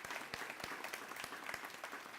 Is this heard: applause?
yes